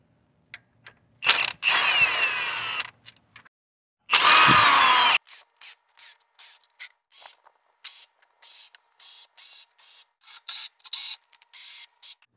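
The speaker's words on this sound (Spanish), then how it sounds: "vamos a quitar este tornillo 10 está agarrando un cable de la tierra" A power tool removes bolts from the valve cover of a 2007 Hummer H3 with a 3.7 engine: two loud whirring bursts of a few seconds each, followed by a rapid series of short, sharp clicking pulses.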